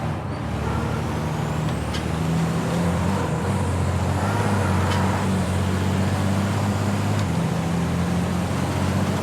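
A racing truck in a European truck racing game roars at full throttle as a steady, loud, continuous engine drone, with the pitch shifting and holding through gear changes and no pauses.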